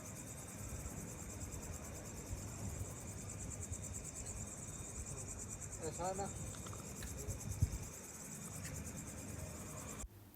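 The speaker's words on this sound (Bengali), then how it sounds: "পাহাড়ের উপর থেকে অনেক সুন্দর ঝিঝি পোকার ডাক আসতেছিল" Crickets chirp steadily at night on a hill above Kathmandu, a dense, high-pitched, continuous drone that fills the background, with a faint voice briefly heard near the middle.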